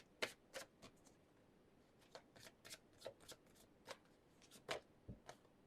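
Oracle cards being shuffled by hand, a string of quick, crisp riffling flicks in irregular bursts, close and soft in a quiet room.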